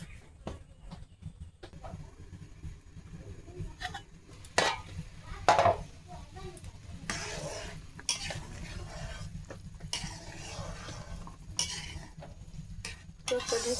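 Okra curry cooking in a pan in a village kitchen, stirred with a spatula: irregular scraping and clinking of utensil against metal, with a faint underlying sizzle and occasional louder knocks, close up, no talk.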